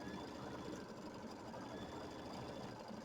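A sewing machine steadily stitching quilting designs along the borders and flanges of a quilt, a continuous rapid mechanical whir with even vibration, close and unbroken.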